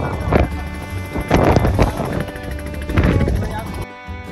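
Strong wind and heavy rain batter a boat on the Meghna river, with gusty rumbling wind blasts on the microphone coming in surges and a voice faintly under the noise.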